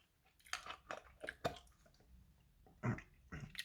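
Propolis gummies chewed up close, one or two at a time, giving soft, wet squishy mouth sounds in irregular bursts with short pauses between them, fairly quiet overall and no talking.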